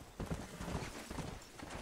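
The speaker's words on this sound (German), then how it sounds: "Ein schwarzes Pferdchen. Das will ich haben." Horse hooves clip-clop in the Red Dead Redemption video game, a black horse trotting in short irregular bursts of hollow knocks, close and fairly quiet, with no talk over them.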